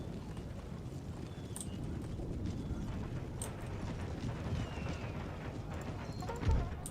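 Cavalry horses galloping in the video game Empire Total War, with massed hoofbeats drumming continuously under distant battlefield noise and a brief louder thud near the end.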